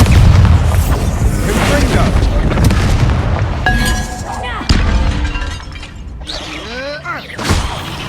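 A Bombarda blasting spell in Hogwarts Legacy erupts into a loud, booming explosion with shattering debris and crackling magical effects. A voice shouts before the blast.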